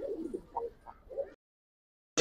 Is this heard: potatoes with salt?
no